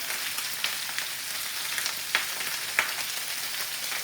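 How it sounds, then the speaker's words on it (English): Continuous loud frying hiss of chicken pieces in a hot pan, broad and steady, with a few small sharp pops and crackles scattered through. "You can probably hear it there, it's quite loud, frying away."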